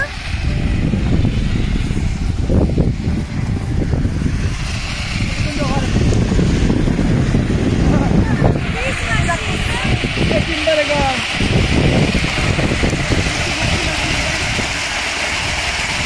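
An almond cleaning machine runs steadily during the Sicilian almond harvest, a continuous loud mechanical rumble with rattling, while a person talks over it throughout.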